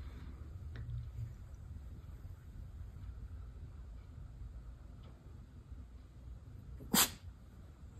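A single sharp dog sneeze bursts out near the end, after a long stretch of low, steady background rumble.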